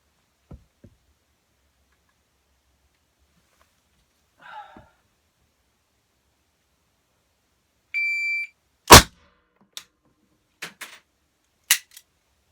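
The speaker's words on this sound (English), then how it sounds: "we're going to try to fire both guns at once at the head" Two guns fired at once at a head target in a ballistics test: a single sharp, loud double report stands out, followed by a few fainter knocks and clicks and a short electronic beep, with long quiet gaps between.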